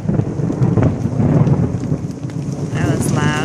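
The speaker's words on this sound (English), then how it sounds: "That was some loud thunder." Loud thunder rumbles heavily through a grey outdoor garden scene with rain falling steadily, a long deep roll that fills the whole stretch, with a brief higher tonal sound near the end.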